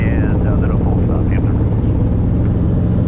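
Robinson R22 helicopter in flight during a training lesson, heard from inside the cabin as a loud, constant engine and rotor drone, with a voice talking over it.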